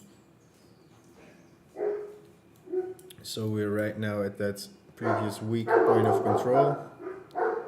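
Someone talks throughout while dogs bark intermittently in the background, several short barks scattered under his speech.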